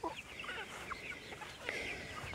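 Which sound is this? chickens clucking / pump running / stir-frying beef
chickens clucking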